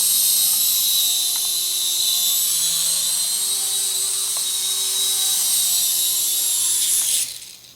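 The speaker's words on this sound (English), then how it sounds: "So there it is, the Syma S6 Nano helicopter." A Syma S6 nano toy helicopter flies with a steady high-pitched whine of its tiny rotor motor, close and continuous for about seven seconds before the sound cuts off abruptly.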